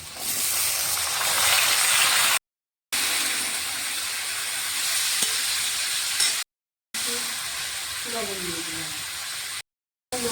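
Tomatoes and sweet potato with salt sizzle steadily in a hot pan for a tomato chutney, a loud continuous hiss broken by brief silent gaps, with faint scraping near the end.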